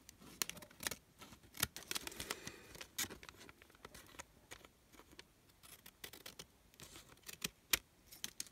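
Scissors snip through paper in quick, irregular clusters of sharp close cuts with brief pauses between, quiet and without talking.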